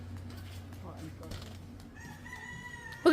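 A rooster crows nearby in one loud, drawn-out call. A low steady hum runs underneath, with faint background noise around it.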